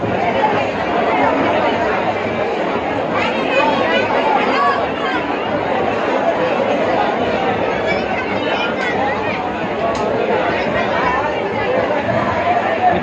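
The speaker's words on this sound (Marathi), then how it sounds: "आता तुम्हाला आतली गर्दी दाखवतो" A dense crowd chatters inside the Ekvira Devi temple near Lonavala, with many overlapping voices forming a constant, even hubbub that carries on without a break.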